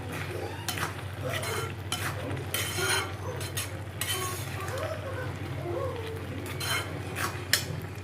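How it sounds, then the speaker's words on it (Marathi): Carrot halwa cooked with milk in an uncovered pan, stirred with a spoon: soft, irregular scrapes and clinks against the pan over a low steady hum. "आता न झाकण ठेवता आपल्याला मस्त हा गाजर हलवा छान असा परतून घ्यायचा"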